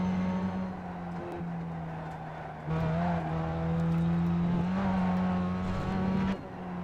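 Pontiac Solstice with downforce, decent power and narrow tires, driven in a racing video game: a steady, loud engine drone that holds an even pitch, rising slightly with throttle, with brief dips at gear changes and no talk.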